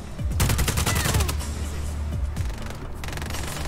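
In the video game Just Cause 4, mortar fire sounds as a rapid burst of loud booming blasts, followed by a few more scattered thumps and a lingering rumble.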